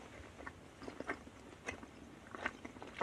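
Someone chews a soft, milk-flavored Japanese Hi-Chew candy close to the mic, making faint, irregular moist chewing and squishing sounds with no talking.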